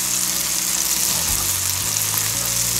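Onions and garlic sautéing in butter over medium heat give a steady, close sizzle and crackle with no one speaking, and a low hum stays under it the whole time.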